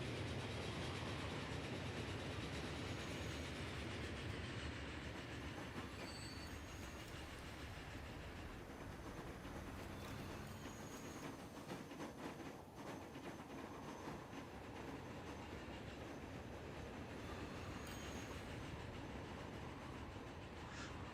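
Trains run through a Transport Fever 2 rail network, a steady, continuous rumble of rolling wagons with faint clickety-clack, held at an even loudness throughout and with no voices.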